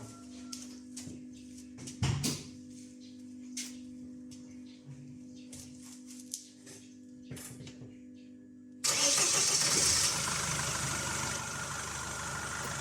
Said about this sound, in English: from here I'll have to start the car